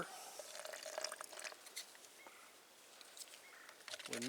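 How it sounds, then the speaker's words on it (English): Water is poured from a small container into a dry concrete demolition mix in a drilled-hole demolition job, a brief, faint trickle and splash with a few light drips. "We add a little bit of water."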